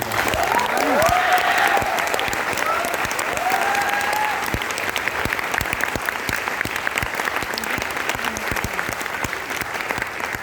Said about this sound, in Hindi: तालियां हो जाए उनके लिए